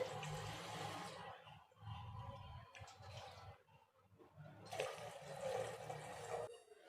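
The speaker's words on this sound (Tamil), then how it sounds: "இப்போ ஒரு பாத்திரத்தில் ஒரு நாலு கப் அளவு தண்ணி சேர்த்துக்கிறேன்" Water pours and splashes steadily into a cooking pot in several surges, faint and close, with brief pauses between pours.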